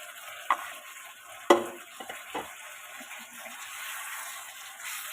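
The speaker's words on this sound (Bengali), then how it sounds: "দেখো মশলাটা কষানো হয়ে গেছে, এবার ভেজে রাখা আলু, পটলটা দিয়ে দেব।" Fried potato and pointed gourd pieces drop into a pan of cooked-down spice paste, giving a couple of sharp plops and clatter followed by steady low sizzling and stirring.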